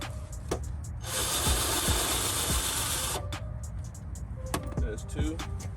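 Cordless drill fitted with a 10mm socket spinning out headlight screws on a 1992-2005 Cadillac Deville, a steady two-second whir close by followed by short bursts and clicks.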